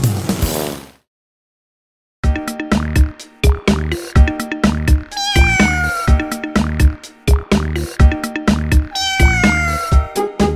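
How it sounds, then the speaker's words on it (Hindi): A cat meows repeatedly in a Hindi children's rhyme: a single call, a short silence, then a rapid run of cartoonish meows over a bouncy, steady musical beat. "बिल्ली"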